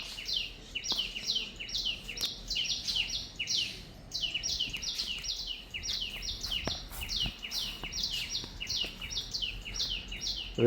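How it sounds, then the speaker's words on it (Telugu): Birds chirp among coconut trees in quick, repeated bursts of bright tweets, several calls overlapping in a lively, continuous chorus at moderate distance. "చక్కగా కొబ్బరి చెట్లు పక్షుల సౌండ్ చూసారా"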